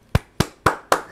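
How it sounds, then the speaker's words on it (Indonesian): A congregation at a worship service claps its hands in four sharp, evenly spaced beats, loud and close, with no voices. "Kita beri tepuk tangan yuk buat Allah kita hebat dan luar biasa."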